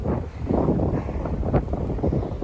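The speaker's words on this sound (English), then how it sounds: "But it's windy." Gusts of wind buffet a phone microphone outdoors on a windy hike, producing a continuous low rumbling roar that swells and dips unevenly with no voice.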